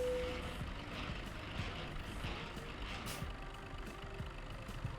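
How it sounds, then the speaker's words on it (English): Heavy truck idling in American Truck Simulator, a steady low engine rumble with faint air-brake hiss and beeps, no talking. "I forgot to turn the truck off, but that's okay."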